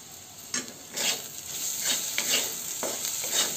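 Ivy gourd (kundru) fries over medium heat in a pan, giving a steady close sizzle broken by repeated scraping stirs of the spoon.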